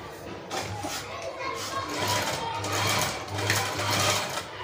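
A sewing machine stitches a kaftan dress, its motor whirring in steady bursts that start and stop in a repeating pattern, close and clear, with some talk underneath.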